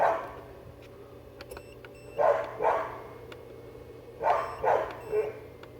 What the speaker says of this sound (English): Just ignore the stupid dog.